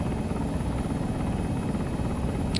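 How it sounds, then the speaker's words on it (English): A helicopter in the video game Arma 3 drones steadily with a constant rotor thrum, loud and unbroken throughout with no talk. "Come get on the helicopter, Recon Scout."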